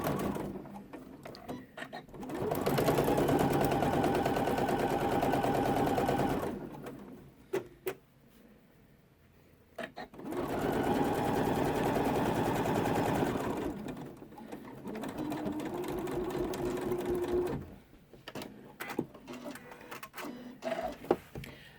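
An embroidery machine stitches a quarter-inch seam on a curved zip pouch, running in three long, loud, steady mechanical bursts separated by quieter pauses with light handling clicks.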